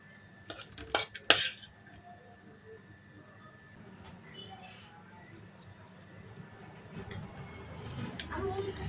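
Rice being spooned into a school lunch box, a few sharp metallic clinks of a spoon against the container near the start, followed by faint quiet handling noise.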